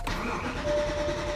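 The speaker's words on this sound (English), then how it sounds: "Okay, it started." A BMW E90 M3 engine starting, with a short catch at the start, then settling into a loud, close running hum with a thin whine on top.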